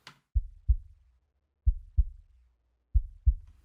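Heavily low-passed sub kick drum from a mix, pounding in three pairs of deep, thudding double hits that sound like a heartbeat, each pair about a second apart with silence between.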